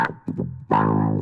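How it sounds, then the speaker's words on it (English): A few bass guitar notes through a Roland Micro Cube Bass RX amp with a squelchy T-wah filter sweeping the tone, the last note held and sustained. "Let's check out the T-wah sound."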